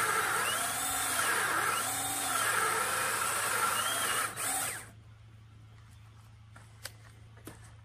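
A DeWalt power drill whirs loudly, its pitch rising and falling in repeated surges as it bores holes, then stops, leaving quiet with a few small taps.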